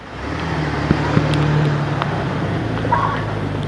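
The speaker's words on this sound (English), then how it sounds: "Or a Jeep." A Jeep rolls past on a snow-covered road during a snowstorm, a steady low engine and tire rumble rising and holding at moderate distance, with faint clicks and no talking.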